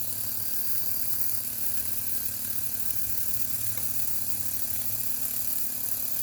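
A model steam engine drives a helicopter propeller through a drive band off a gear, giving a steady, close mechanical whirring and rapid ratcheting clatter with a constant hiss that runs unbroken throughout.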